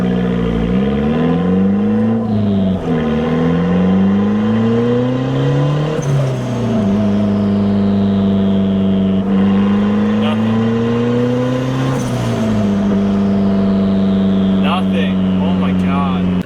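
A turbocharged Honda Civic with a loud aftermarket exhaust accelerates hard, its engine note climbing in repeated pulls before letting off, droning close and loud, with people talking over it.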